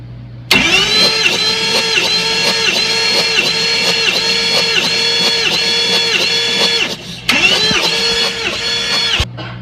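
Engine cranking over steadily with the starter during a compression test, a loud rhythmic chugging of repeated compression pulses lasting several seconds, then a brief pause and cranking resuming.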